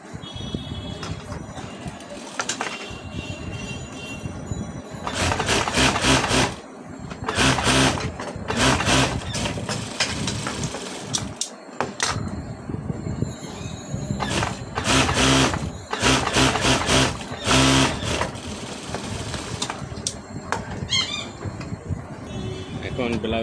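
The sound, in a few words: sewing machine stitching blouse side seam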